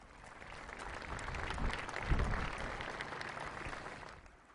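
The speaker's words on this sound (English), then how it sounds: "applause." An outdoor crowd applauds at the I-74 bridge dedication, the clapping swelling to a peak midway and then fading, fairly distant and soft.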